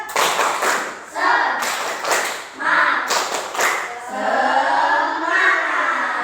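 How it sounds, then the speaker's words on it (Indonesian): A group does a rhythmic Indonesian spirit clap, clapping in bursts of rhythmic patterns, with voices chanting along between the claps. "Tepuk semangat."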